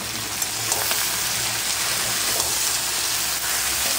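Garlic, dried chilli and cumin frying in a pan for a Bengali-style chicken feet dish, a dense, steady hiss of sizzling oil close up, with faint stirring and no talk.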